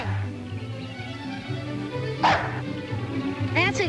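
A dog gives a couple of short, sharp barks and a yip over a low steady background hum, one bark in the middle and a quicker one at the end.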